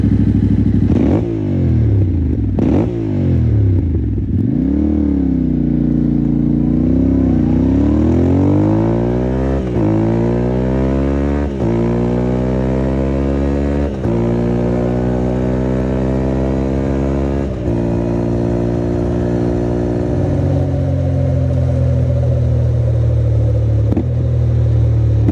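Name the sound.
Yamaha Tenere 700 motorcycle riding with Akrapovic slip-on exhaust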